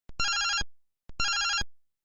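An old telephone bell rings in two clear bursts about a second apart, each a bright metallic trill, loud and alone.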